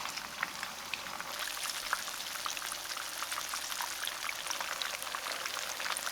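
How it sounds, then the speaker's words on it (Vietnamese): Oil sizzles and crackles steadily as zucchini rolls fry in a pan over medium heat, a constant close hiss with scattered pops and no voices. "Khi dầu nóng thì mình cho bí ngòi cuộn vào để chiên nè."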